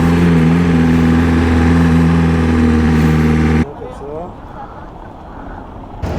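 A BMW M1000RR motorcycle engine idles loudly on a Paris street with a steady low throb, then cuts off abruptly, leaving faint street noise and distant voices.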